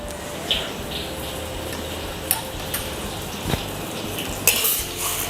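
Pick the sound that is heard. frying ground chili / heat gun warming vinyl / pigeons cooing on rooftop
frying ground chili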